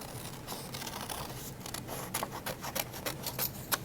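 Scissors snipping through paper while cutting out a Frankenstein face for a craft, a run of quick crisp close-up cuts that grow sharper and more rhythmic toward the end.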